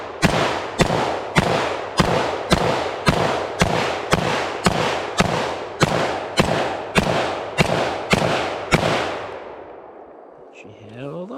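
An ARX-100 rifle fires a string of about fifteen evenly spaced loud shots, sharp and close, before the firing stops and faint handling noises follow.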